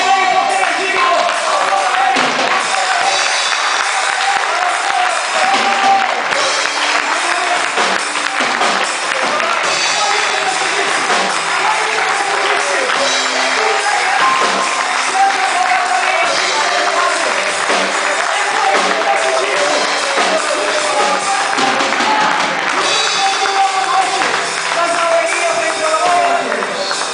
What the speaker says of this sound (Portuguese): Aplauda o nome dele, porque Ele é digno.